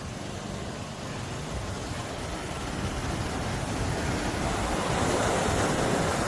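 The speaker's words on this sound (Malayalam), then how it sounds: "മഴക്കോളും അതുപോലെ തന്നെ നല്ല കാറ്റും തിരമാല ഇങ്ങനെ വന്നിങ്ങനെ അടിക്കാനുണ്ടല്ലേ" Ocean waves crash continuously at Alappuzha beach under rain clouds, a loud, close roar of surf mixed with strong wind buffeting the microphone, building slightly toward the end.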